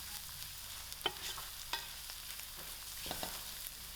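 Onions and crushed garlic fry quietly in a pan for a spicy fish head curry, a faint steady sizzle with a few soft scrapes of stirring, no one speaking.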